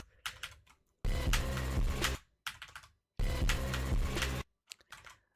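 Computer keyboard keys are pressed during a video game, sounding as close, quick clusters of clicks in two longer dense bursts separated by shorter scattered taps and brief pauses.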